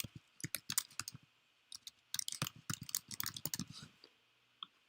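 Someone types on a computer keyboard at a close distance, with quick bursts of crisp key clicks separated by short pauses and one last isolated tap.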